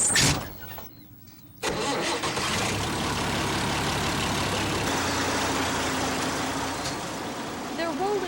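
Farm tractor engines start up and settle into a steady loud rumble as the machines roll out, a continuous mechanical drone with a brief dip before the engines catch.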